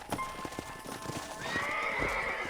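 Horses in the video game Red Dead Redemption, a neigh and whinny over rhythmic clip-clop of hooves close by, the whinny rising and sustained in the second half.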